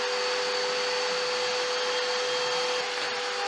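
A CNC machine mills wooden climbing holds inside a soundproof enclosure, giving a steady, loud, continuous whirring roar with a high spindle whine and no pauses or talk.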